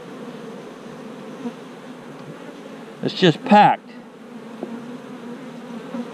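Honeybees, many of them nurse bees, buzz in a steady low drone inside a crowded hive with no queen cells, close and continuous, while a person speaks briefly over the hum midway.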